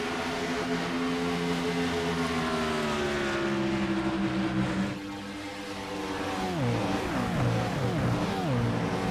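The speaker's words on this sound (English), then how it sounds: "These cars sound so good." Race car engines from the iRacing video game at Charlotte Motor Speedway roar and whine past, pitches sliding up and down as the cars accelerate and shift, with a brief dip before more cars scream through.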